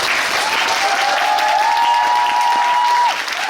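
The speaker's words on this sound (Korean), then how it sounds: "박민성, 유찬열 배우님들께 다시 한번 좀 큰 박수 부탁드립니다" Theatre audience giving big applause to the musical's actors at a closing-performance stage greeting, loud sustained clapping with a faint steady tone running beneath it.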